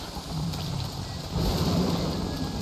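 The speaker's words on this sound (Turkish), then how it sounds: "Ve yağmur yağıyor." Steady rain in the survival game Don't Starve Together, a dense continuous wash of patter that swells louder midway, with no voices over it.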